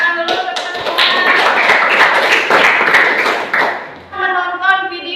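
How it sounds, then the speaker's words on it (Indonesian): A classroom of students claps for their classmates, a dense burst of hand claps lasting about four seconds before voices take over at the end. "Tepuk tangan dulu untuk teman-teman."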